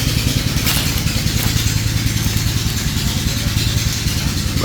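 Two engines run together at a steady idle, a loud, close, continuous rumble with rapid mechanical pulsing and a light clatter, no voices.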